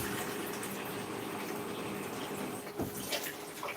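Purified water poured into a can for cooking, a continuous steady rushing splash throughout with a brief dip near the end, close and fairly loud, no talk.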